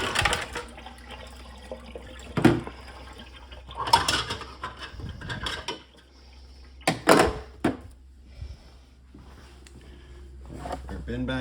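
Water poured out of a Fhiaba refrigerator ice bin, splashing and sloshing in short bursts with knocks from handling the bin, while a person talks in between.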